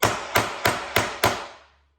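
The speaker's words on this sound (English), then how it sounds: "pounding on them like this hopefully might knock them loose a little bit" Five sharp, evenly spaced hammer blows ring out close and loud on steel Torx screws set in an aluminum housing on a Polaris RZR 900 Trail, each strike decaying quickly, the last leaving a brief fading ring.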